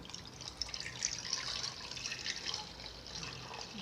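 Water pours into a bowl of bajji batter made with salt, colour powder and asafoetida, a soft continuous trickle and splash heard close but quiet for a few seconds.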